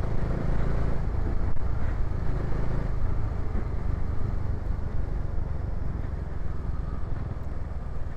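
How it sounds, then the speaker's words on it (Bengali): Motorcycles on a road, including a Royal Enfield Meteor, a KTM Adventure 250 and a Bajaj Dominar, riding together with a steady, loud engine rumble and wind noise. The sound rolls on without a break. "আমাদের বাইকের লাইনে আপনারা দেখতে পাচ্ছেন মিটিওর, কেটিএম অ্যাডভেঞ্চার 250 আর আমার ডমিনার"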